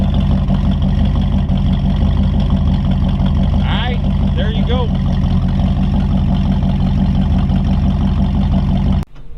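A 1932 Ford Hi-Boy roadster idles loudly with a steady, throbbing low rumble heard up close, someone speaks briefly over it, and the engine cuts off abruptly near the end.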